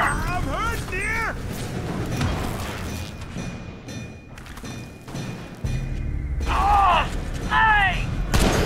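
Combat in the video game The Bureau: XCOM Declassified: a deep grenade blast and rattling gunfire boom through a loud battle, with voices shouting over the noise.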